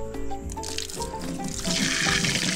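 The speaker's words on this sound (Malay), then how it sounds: "Air laju." Water gushes quickly from a sink tap at a hillside campsite in a durian orchard, a steady splashing rush that grows louder and brighter toward the end.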